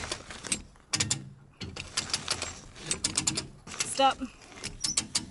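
Metal water-system fitting on a leaking off-grid water line being torqued with a wrench, giving bursts of ratcheting, grinding mechanical clicks up close, interrupted by brief pauses and a short spoken word.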